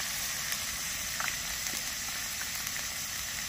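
Chopped tomato sizzling in hot oil in a pan, a steady loud crackling fry with small pops throughout.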